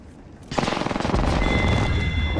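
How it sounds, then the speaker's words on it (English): Rapid automatic gunfire erupts in an Apex Legends match, a dense loud burst of shots with booming impacts that continues steadily to the end. "Hey, I'm getting shot!"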